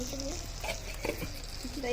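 Fried spices (cumin, coriander, dried chillies, fenugreek, fennel) scrape and rustle as they're stirred in a hot pan for pickle, with a soft sizzle running steadily underneath.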